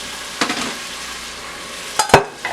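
Saltfish dropped into a hot pan for bake and saltfish, with a constant frying sizzle, a spatula scrape early on and a louder double clatter of stirring near the end, no voices.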